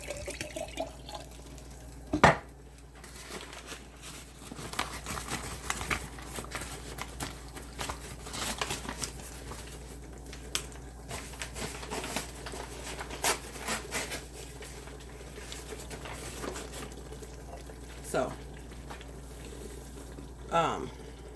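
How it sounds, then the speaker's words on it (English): Water poured into a pot for cheesy baked spaghetti, a soft, uneven splashing and trickling patter with occasional clinks and bumps, fairly quiet and close. "So I'm going to pour some water in this."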